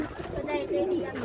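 Teddy pigeons coo softly in low, rolling murmurs, fairly faint and partly buried under someone talking nearby.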